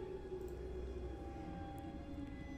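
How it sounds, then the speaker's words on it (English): A far-off siren wails in the Tiny Bunny video game, a faint, steady droning tone that hangs over a quiet, dark ambience for the whole stretch. "somewhere far away, a siren was going off,"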